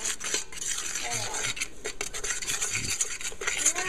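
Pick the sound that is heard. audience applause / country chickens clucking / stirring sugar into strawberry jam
stirring sugar into strawberry jam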